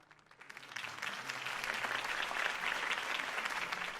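A video game crowd bursts into applause after a campaign speech, building quickly and holding steady, a dense wash of clapping that sounds slightly distant.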